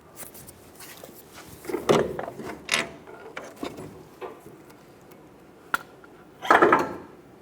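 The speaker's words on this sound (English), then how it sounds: "Pull down on that upper control arm and remove the upper ball joint nut" A wrench works on the upper ball joint nut of a 2014–2018 Chevrolet Silverado 1500 front suspension, producing several separate metallic ratcheting clicks and clanks in irregular bursts with quiet gaps between them.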